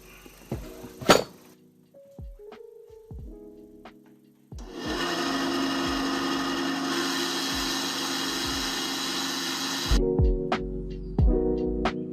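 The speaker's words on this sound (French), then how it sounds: "maintenant on passe sur la scie pour découper ça" A saw cuts through material for a Goldorak display box in a steady, loud buzzing run of about five seconds, with scattered knocks and handling sounds before and after.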